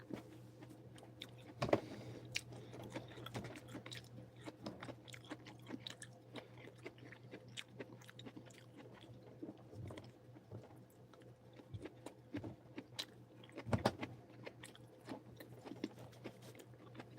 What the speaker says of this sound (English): I'm having sausage and broccoli and green beans.